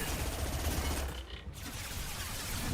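SMG gunfire in the video game Mass Effect: sustained rapid automatic shots forming a dense, continuous rattle with a brief dip in the middle, loud and close.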